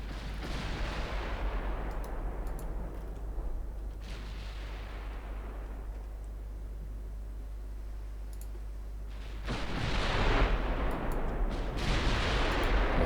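Naval guns firing in Ultimate Admiral Dreadnoughts at long range, a few heavy booming salvos that swell and fade over a steady rumbling background, with a louder salvo near the end.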